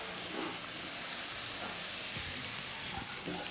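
Pointed gourd (potol) fries in a pan, giving a soft, continuous sizzle and hiss with occasional faint spatters, heard close and quiet.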